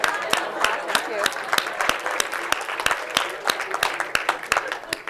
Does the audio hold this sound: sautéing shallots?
no